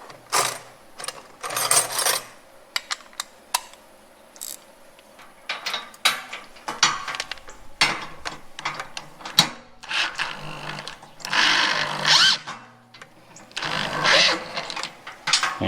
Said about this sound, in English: this is a regular drill. It's not a driver